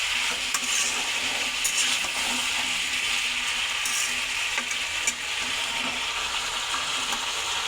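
A spoon keeps stirring food frying in a pan, under a dense, continuous sizzle with occasional scrapes, close and steady, no talking.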